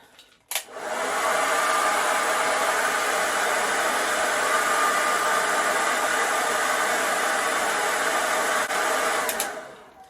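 A blow dryer drying curly hair into a diffuser cup switches on with a short click and whirs steadily at full blast for several seconds, then cuts off near the end; no talking.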